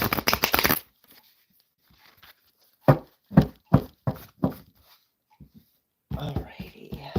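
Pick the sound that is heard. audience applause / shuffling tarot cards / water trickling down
shuffling tarot cards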